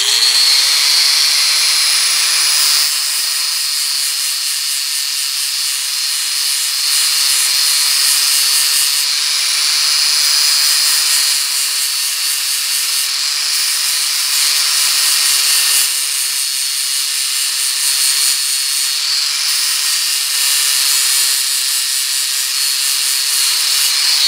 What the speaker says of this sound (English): we kind of improvise with a drill motor and a 40 grit flap wheel for a 4-inch wheel grinder